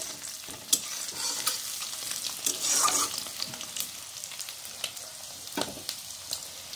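Eggs for an egg curry frying in a pan, with a steady crackling sizzle broken by occasional stirring scrapes, fairly close and moderate in level with no voices.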